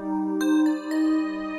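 Dark trap loop on a Woodpecker Bells synth with a Gross Beat fade-in: shimmering bell tones swell, dip briefly, then rise again, with a few new note strikes layered over the sustained ring.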